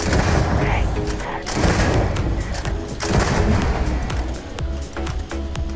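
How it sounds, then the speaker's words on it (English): Bridger grenade launcher firing in Starfield, loud repeated booming blasts and rumbling explosions over a dense game soundscape, with a voice talking over parts of it. "The beauty of a grenade launcher is you don't even need to hit them, all you got to do is get close."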